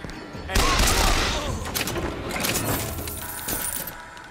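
A gun fires in the shooter Bioshock Infinite with a loud, rapid, crackling burst of shots, close and dense, that eases into scattered impacts and a second short flurry.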